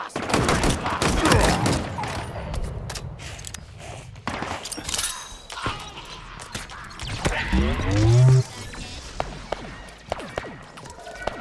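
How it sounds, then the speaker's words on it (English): Gunfire in Halo Infinite's Outpost Tremonius campaign: dense clusters of shots at the start, then scattered bursts and a low rumbling thump near the end, all fairly loud with a busy game-sound bed. "The hell is shooting me?"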